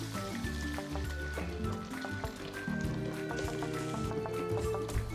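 Blended tomato poured into a pot over sautéed onions, with wet drips, splashes and a light sizzle rising and falling up close.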